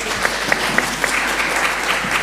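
An audience at a seminar applauds steadily and fairly close, a dense wash of clapping with a few sharper individual claps, with no voices over it.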